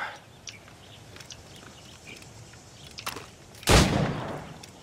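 Naval gunfire from the video game Assassin's Creed Rogue: a loud, sudden burst of cannon or gun blast near the end, with scattered faint cracks and soft ambient noise before it.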